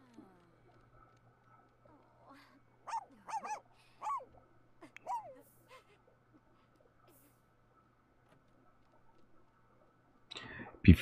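A small dog in The Sims 4 game, a Papillon, lets out a short run of yipping barks spread over a few seconds against a quiet background, then falls silent before a brief louder burst at the end.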